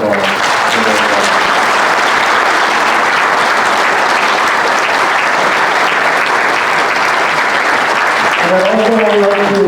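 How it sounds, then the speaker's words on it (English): Loud, sustained applause from the audience at a municipal election councilor debate forum, dense clapping filling the room throughout, with a voice starting to speak near the end. "I think we owe all of them a round of applause"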